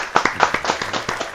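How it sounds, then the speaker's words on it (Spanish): Scattered hand claps greet a guest on a Spanish-language talk show, a short burst of a few distinct claps at moderate volume with a faint voice underneath. "Quiero darle un fuerte aplauso a nuestro invitado de hoy."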